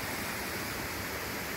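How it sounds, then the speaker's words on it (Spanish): Waterfall on a river flowing toward the Delaware River, a steady, dense roar of falling water heard at a moderate distance, continuous and unbroken with no voices. "Dice Daniel que parece que anda en Costa Rica con esas cataratas que hay aquí"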